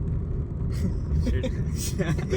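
Low engine drone and road rumble inside a car on a highway trip toward Alibag, with voices talking over it throughout.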